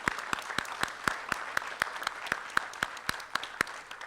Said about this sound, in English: let's give a round of applause for all of those employees.